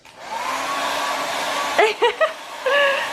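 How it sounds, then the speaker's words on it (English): A hair dryer blows with a steady whirring hum, then a few short bursts of voice-like tones break through near the end. "getting me to do the travel hack with the hairdryer"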